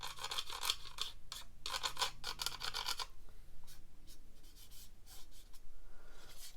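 Pencil side shading over nuts and bolts on a 1/35 scale Tamiya M4 Sherman model kit, a close scratchy rubbing in several quick bursts with brief pauses, then softer, steadier strokes.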